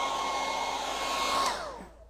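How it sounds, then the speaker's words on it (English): A really hot hairdryer blowing to set fabric paint on a Christmas Santa sack, a steady close whooshing drone that fades out as the dryer switches off. "you can either use a really hot hairdryer to set the fabric, to set the paint"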